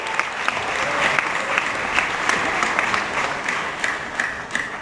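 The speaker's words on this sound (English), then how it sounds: "Star Wars fans are definitely some of the best fans out there, so you deserve a big round of applause." Star Wars fans at a Star Wars Weekend event applaud steadily for about five seconds, a dense, even crowd clapping with sharper individual claps rising now and then above the wash.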